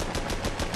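In Armored Battle Crew, a tank cannon fires a quick burst of several sharp, rapid shots in even succession. The shots sound loud and close over a low rumbling background, with no voices.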